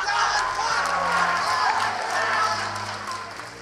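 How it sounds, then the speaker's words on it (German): Audience at a German esports championship final cheers and claps in a sustained crowd roar, with some talk mixed in underneath. "Ein großen Applaus nochmal."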